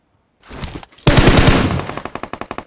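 Video game gunfire in a ranked match: a short burst, a brief gap, then a loud sustained machine-gun volley that breaks into a fast, evenly spaced run of single shots.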